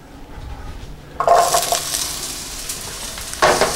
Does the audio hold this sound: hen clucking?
no